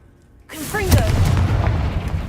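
The Confringo fire-blast spell exploding in Hogwarts Legacy, a sudden loud booming burst after a brief quiet moment, followed by sustained crackling rumble; a voice speaks just as it erupts.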